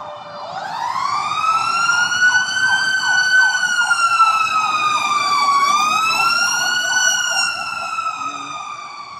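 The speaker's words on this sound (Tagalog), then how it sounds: "kaya maingay po ngayong sirena ngayon" A wailing emergency siren sweeps up and holds loud and close at a Pasay terminal during a nearby fire, its pitch rising and falling steadily over several seconds, with traffic rumble underneath.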